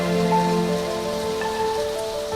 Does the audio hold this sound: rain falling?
yes